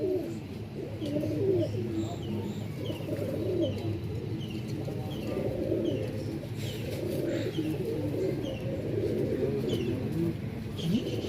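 A flock of paired pigeons coos continuously in low, overlapping rolling calls at close range, with faint chirps scattered throughout and some indistinct background voice.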